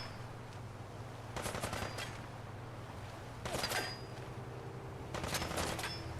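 A settler fires a gun in Sim Settlements 2, producing three separate bursts of rapid shots over a low, steady hum.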